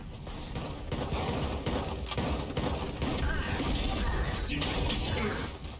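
Dense, continuous gunfire from the video game Valorant, rapid overlapping shots and impacts filling the whole stretch at a steady, loud level with no clear pauses.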